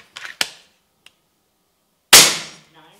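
An FX Crown air rifle fires a pellet into a pellet trap: a sharp, close crack with a quick decaying tail, preceded by a few small clicks and handling taps.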